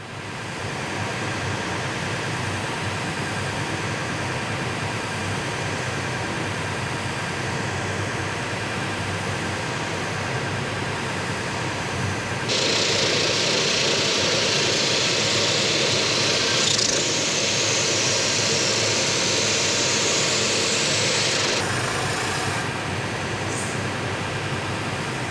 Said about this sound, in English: continually just kind of bump this sander in until I get a nice consistent round surface